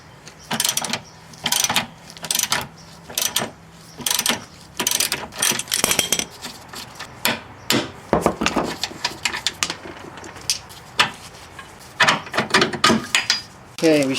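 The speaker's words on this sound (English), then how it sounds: "It's a 21mm socket, and then I'm holding it from the other side with a wrench" Ratchet with a 21mm socket loosening a control arm fastener on a 1999 Pontiac Grand Prix, loud close bursts of rapid clicking in repeated strokes, with pauses between.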